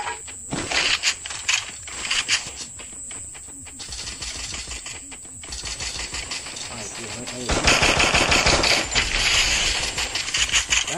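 Video game gunfire crackles in rapid bursts and single shots, fairly distant, mixed with other game effects and clicks, with a louder stretch of firing toward the end.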